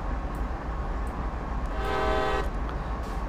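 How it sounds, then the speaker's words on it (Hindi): A CSX heavy haul locomotive's horn in Train Sim World sounds one steady, harmonic blast lasting under a second, rising above a continuous rumbling engine drone that runs throughout. "एक बार हॉर्न बजा के धीरे धीरे हम लोग आगे बढ़ेंगे"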